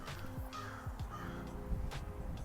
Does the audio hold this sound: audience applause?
no